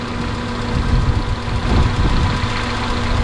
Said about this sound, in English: The idle's gone down to about where it needs to be.